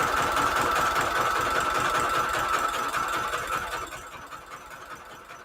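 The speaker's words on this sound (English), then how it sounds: "So the zigzag stitch is going to go right here." A sewing machine runs a zigzag stitch along a fabric edge, its rapid needle chatter loud and steady before easing off toward the end.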